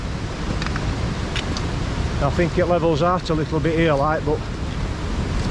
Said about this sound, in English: look at this white water, almost like rapids